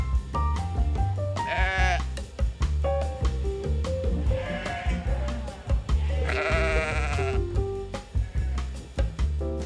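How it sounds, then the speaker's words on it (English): Sheep at a sheep and wool festival bleat repeatedly, loud and close, several wavering calls over a busy crowd. "So naturally, I walked around and I pet every single sheep, and it was pure joy."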